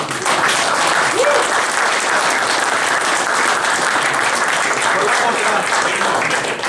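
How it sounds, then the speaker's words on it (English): A room of cricket club members at an end-of-season meeting and presentation gives Faraz a round of applause: steady, dense clapping that holds evenly at full level throughout. "Can we all give a round of applause to Faraz?"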